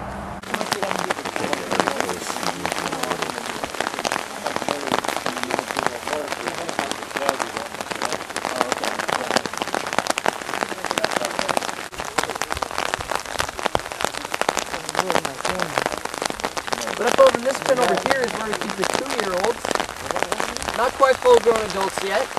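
Steady, dense rain falling and pattering on surfaces throughout, loud and continuous, with a voice faintly audible beneath it.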